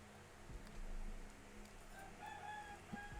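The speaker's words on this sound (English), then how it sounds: "I wonder if you guys can hear the chicken." A neighbor's chicken clucks and calls faintly in the distance, in short bursts over a steady low background hum, with no talk.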